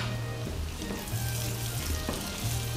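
Butter melting and sizzling in a pan with fried onion, a continuous close hiss with faint stirring clicks and a low steady hum underneath.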